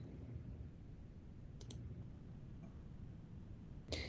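A computer mouse clicks on an icon, giving a soft double click and then a single sharper click later, faint against a low background hum.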